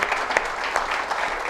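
A church congregation claps together in a short, steady burst of applause that stays fairly loud and even throughout, with no voices standing out above it.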